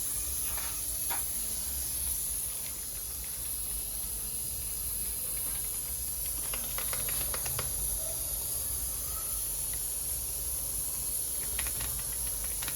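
Potato masala sizzling in a pan, a steady loud hiss that runs throughout, with scattered faint clicks and taps of a spoon.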